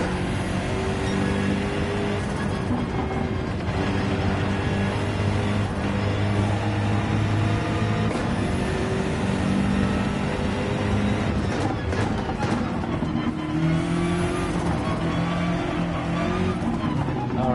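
A Viper race car engine in Gran Turismo 7 drones steadily throughout, holding sustained tones that rise and fall with gear changes, with occasional tire noise and no break in the sound.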